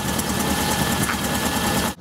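A car engine idles smoothly after a spark plug change, a loud, close, steady mechanical hum with a faint rhythmic pulse, cutting off abruptly at the end.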